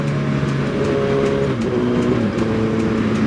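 A 2008 Suzuki Hayabusa motorcycle engine revs loud and close, with steady harmonic tones rising and falling over a continuous mechanical roar and no one speaking.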